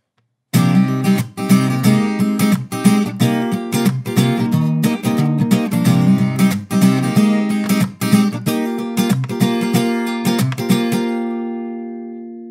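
An acoustic guitar plays the verse of a song alone, with steady rhythmic strummed chords up close for about eleven seconds, ending on a sustained ringing chord.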